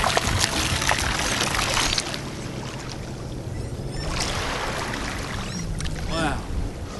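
Water released out in the desert rushes and pours steadily, with a hissing flow that softens and then swells again over several seconds, with no talk heard.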